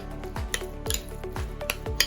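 Masago fish roe stirred in a bowl with a utensil, giving soft, steady scraping and light clinking strokes in a regular rhythm, close up with no talk.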